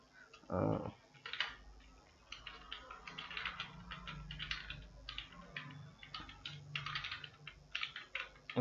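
Computer keyboard typing during a beginner HTML coding lesson, a quiet, steady patter of key clicks in irregular bursts, preceded by a brief low thump.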